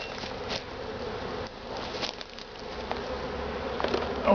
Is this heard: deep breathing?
no